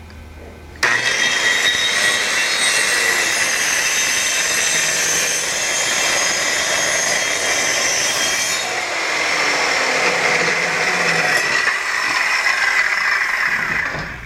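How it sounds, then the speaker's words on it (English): A power saw starts abruptly and cuts steadily through ganged wooden boards, a loud continuous high whine that shifts slightly in pitch partway through before winding down. "While the boards are ganged together, I'm going to go ahead and make the rest of the cuts."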